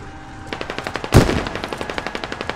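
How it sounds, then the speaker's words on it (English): Sustained machine-gun covering fire in the military shooter game Squad: a loud, steady rhythm of rapid close shots with one heavier blast near the start, no voices. "They're just laying down covering fire, bro."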